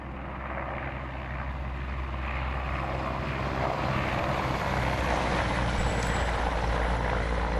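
A helicopter engine from the Speed of Sound sound mod for the video game ArmA 3, heard as a steady, loud turbine drone that swells slightly, with little rotor thumping and no talk.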